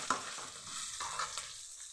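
Garlic and urad dal fry in a pan, giving a soft, continuous sizzle with a couple of light stirring taps, fairly quiet and heard alone.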